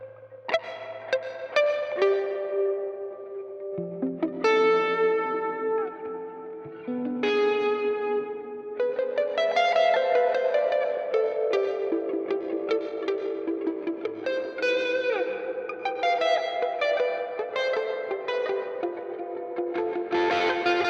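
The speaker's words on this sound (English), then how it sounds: "There's a lot of reverb there if you want it." Guitar played through a Two Notes Torpedo Captor X with the reverb set extra large, notes and chords ringing out into a long, washy, echoing tail that blurs each phrase into the next, loud and continuous without talk.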